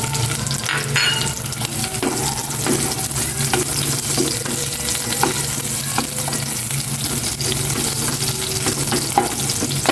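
Onions fry in a pan for a home lunch of tortang talong, giving a steady, loud sizzle with occasional scraping stir strokes throughout and no talking.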